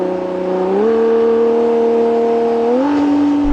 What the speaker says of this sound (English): just unnecessarily kicking down the gears to hear some noise